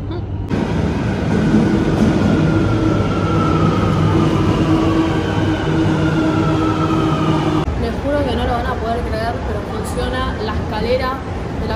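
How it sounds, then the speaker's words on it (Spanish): A Buenos Aires subte metro train runs near the D and H line interchange, giving a loud continuous rumble with rattling wheels and squealing metallic tones that shift and screech near the end. "Estoy en el subte porque seguimos usando el subte en este canal."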